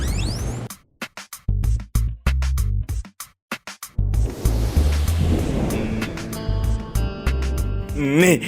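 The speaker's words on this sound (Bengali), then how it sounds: "বৃষ্টি আসছে।" Rain with thunder as a cartoon sound effect: a dense, steady rushing roar takes over midway, after choppy rhythmic bursts, with musical tones layered over the downpour toward the end.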